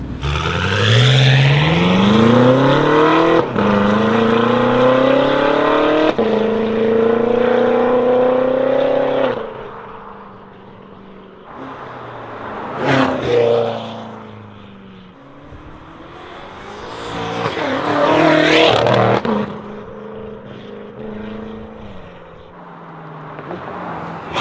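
A 1000 hp BMW F10 M5 with a new 10-spring flywheel passes at half throttle, its engine rising in a loud sweeping drone, then fading, followed by two more distant swells of revving as the car comes and goes.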